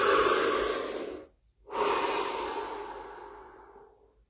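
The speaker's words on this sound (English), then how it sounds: "Deep breath." Two long, deep breaths taken close to the microphone during a guided body-scan relaxation: a loud airy inhale that fades, a short silent pause, then a long, slowly fading exhale.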